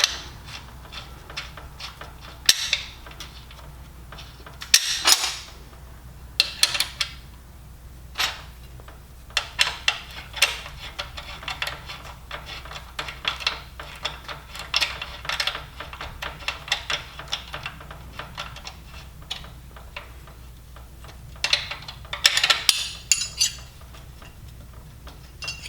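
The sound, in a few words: tightening a nut onto a cap screw, welding positioner kit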